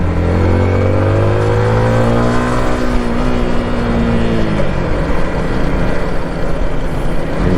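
Steady engine drone from inside a car moving through light morning traffic, with rising and falling harmonic tones as it accelerates and shifts, loud and continuous with no voices.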